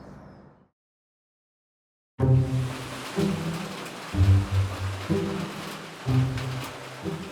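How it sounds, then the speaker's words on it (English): Rain falls in Bangkok as a broad, steady hiss that cuts in after a short silence, with a low pulsing layer underneath and no voices. "it started to rain again"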